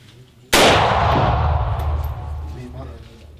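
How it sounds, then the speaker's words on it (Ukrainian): A single sharp, loud rifle shot cracks out during civilian shooting training in Zhytomyr region, Ukraine, followed by a long rumbling echo that slowly fades over the next few seconds. "знайшов ціль, прицілився, кладу палець, нажимаю спуск"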